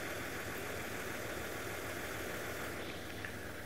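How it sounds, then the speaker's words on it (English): A bus engine on a safari drive runs at a low, steady rumble with a continuous throaty idle that swells slightly, heard up close and alone without talking. "And you can hear the bus just revving behind us."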